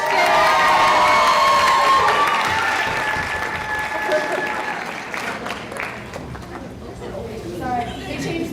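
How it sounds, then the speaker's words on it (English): Loud applause and cheering from an audience at a nursing pinning ceremony, with whoops and shouts over dense clapping that slowly fades while a voice talks over it. "One more round of applause for Ashton."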